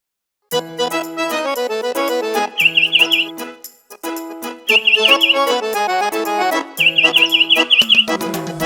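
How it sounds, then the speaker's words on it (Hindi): Bright bird chirps in short rapid bursts of four to six calls, repeating three times over upbeat music for a Hindi children's rhyme about a bird pecking at grain. "चिड़िया चुगने आई दाना, चीची चीची गा कर गाना।"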